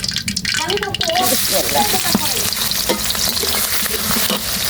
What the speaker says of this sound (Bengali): মাংসটা সুন্দর মতো কষাইয়া নিতে হইব গরম মশলা তেজপাতা দিয়ে দিচ্ছি মরিচ পেঁয়াজ দিয়ে